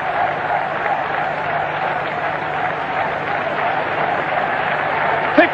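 A stadium crowd cheers and applauds steadily through the closing stages of a 1980 mile race, a broad continuous roar with a slight swell at the very end.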